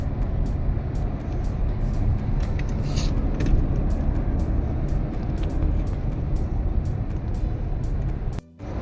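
A bus travelling by road on a journey from Pune to Satana, with a steady, loud rumble of engine and road noise throughout and a brief dip near the end.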